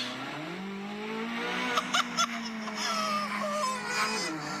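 A 2023 Chevrolet Corvette C8 Z06 accelerates hard with a loud, rising engine note that steps through gear changes, the pitch dropping and climbing again, with a few sharp clicks partway through.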